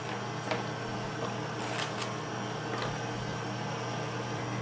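A microwave oven melting butter and chocolate hums at a steady low drone, with a few faint clicks and rattles standing out over the constant whir.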